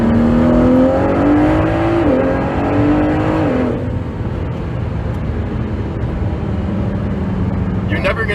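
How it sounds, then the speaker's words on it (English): Ford GT twin-turbo V6 pulling hard under acceleration, a loud close engine note rising in pitch, dipping at a gear change, then easing to a steadier lower drone; speech runs over it throughout. "hearing the engine behind us, hearing the turbos spool up,"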